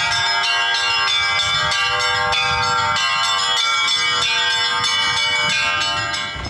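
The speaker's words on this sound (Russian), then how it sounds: "При этом город оглашается колокольным звоном" Church bells peal loudly and continuously for Easter in Gomel, their overlapping rings and rich overtones filling the air without pause.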